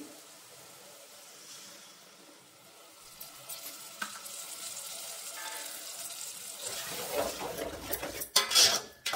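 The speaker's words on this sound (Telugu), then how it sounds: "5 నిమిషాలు సిమ్లో పెట్టుకొని అలా ఫ్రై చేసుకున్నాను" Jackfruit halwa mixture cooks on a low flame, a quiet sizzle that grows busier as a spoon scrapes and clinks against the pan near the end, with no talk.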